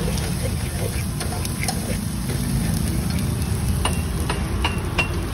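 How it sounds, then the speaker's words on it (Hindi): Spices tempering in hot oil in a pan while Maggi noodles are cooked at an Indian street food stall, giving a steady, dense sizzle and crackle with a low engine-like rumble underneath and scattered small pops. "बढ़िया से तड़का लगा रहे हो"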